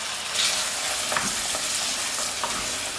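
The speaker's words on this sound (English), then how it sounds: "the lamb goes directly into the pot there" Lamb pieces sear in a hot curry base in a pot with a steady, close sizzle, punctuated by a few brief stirring scrapes and no voices.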